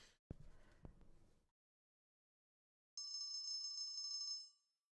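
An electronic alarm-like beeping tone within background music during a sweetroll baking session in a kitchen, sounding once for about a second and a half after a brief clatter and rustle of baking pans.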